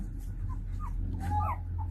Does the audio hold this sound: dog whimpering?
yes